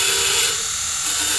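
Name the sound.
grinding down a 3/8 drive Hazet socket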